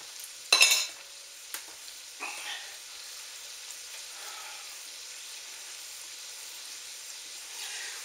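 Leeks cooking in a pot on the stove with a soft steady sizzle, a sharp scrape of a spoon stirring near the start and a few lighter knocks and scrapes afterward.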